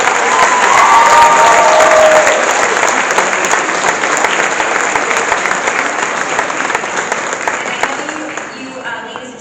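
A large audience at an 8th grade school graduation ceremony breaks into sustained, loud applause that fills the hall, with a few voices mixed in and the clapping slowly thinning toward the end.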